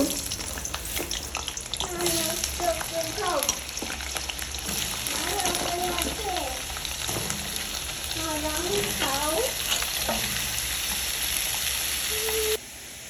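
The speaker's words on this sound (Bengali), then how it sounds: "তারপর তেলটা গরম হয়ে গেলে আমি মোটা সাইজের কাটা আলুগুলো দিয়ে দেব ভেজে নেব" Cut potatoes and soybean chunks fry in hot oil, giving a loud, continuous sizzle with stirring scrapes close up. Someone talks over it at intervals.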